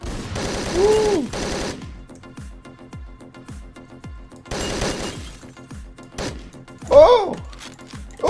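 Gunfire in the video game Hotline Miami 2: Wrong Number, with loud bursts of rapid shots and sharp single cracks separated by pauses, along with excited exclamations from a player.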